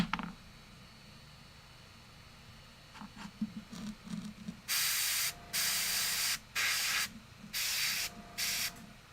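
An airbrush sprays paint onto Warhammer miniatures in five sharp, hissing bursts of about a second each, preceded by faint handling clicks and taps.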